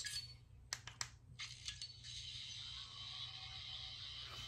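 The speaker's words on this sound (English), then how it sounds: "is the standard Sonic sound." A 15th Doctor toy sonic screwdriver gives its standard sonic sound: a bright, steady electronic whirring hiss broken by a few sharp clicks early on, close and fairly quiet, with no talking.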